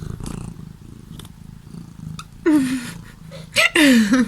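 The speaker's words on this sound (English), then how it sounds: "She's meowing again." A cat purrs steadily at close range, broken by a few rising meows, loud and near.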